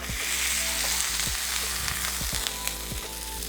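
A burger patty fries in an iron skillet with a steady, dense sizzle and crackle, close and continuous, with occasional light scrapes of a spatula.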